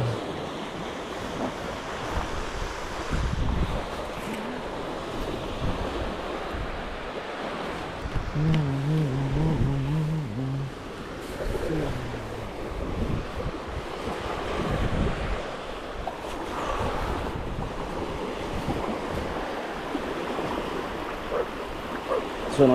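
Waves wash steadily onto a calm beach at dawn where clams are gathered, with continuous surf and wind buffeting the microphone throughout and a brief low hum partway through.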